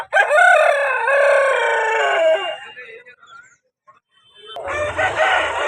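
A rooster at a Sunday rooster market in Vijayawada crows once, loud and close, with a long drawn-out call. After a brief quiet, clucking and market bustle follow.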